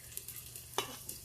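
Garlic sizzling and frying in hot oil with cumin and asafoetida for a tempering, with soft stirring scrapes and a short burst of crackle near the middle, fairly quiet and close.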